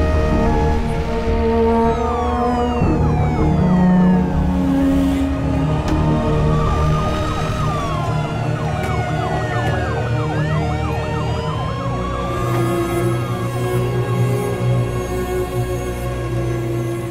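An ambulance siren wails loudly and continuously, its pitch sweeping up and down, with traffic rumbling beneath.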